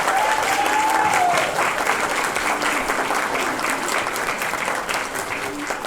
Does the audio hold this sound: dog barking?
no